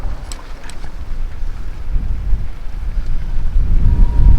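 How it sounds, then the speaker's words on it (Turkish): Wind rumbles and buffets against the microphone, a low roaring gust that grows stronger toward the end. "Şu anda güzel bir rüzgar var. Kulaklarımda hissediyorum horultusunu."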